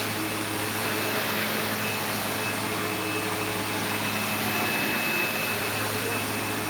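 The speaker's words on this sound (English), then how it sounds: "Every time I vacuum right here, it would shut off." A Windsor XP12 upright vacuum cleaner running with a steady, unbroken motor whine and airflow roar at close range, holding an even level throughout.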